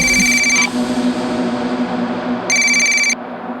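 A phone rings twice, bright electronic trilling bursts separated by a pause, loud and close, with a low hum in between.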